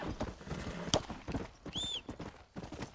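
Horse hooves in the video game Red Dead Redemption clip-clop in a steady walking rhythm, with a brief chime-like tone midway; the scene is fairly quiet.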